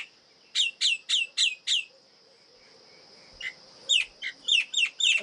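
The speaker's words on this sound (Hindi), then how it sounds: "ये मैनाओं का झुंड है।" A flock of mynas calls in a Himalayan village in Uttarakhand, with two bursts of quick, repeated sharp chirps separated by a short pause. The calls are close and clear over a faint background, and nobody talks.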